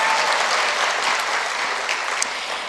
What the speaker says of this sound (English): give her a round of applause going while we're in the mood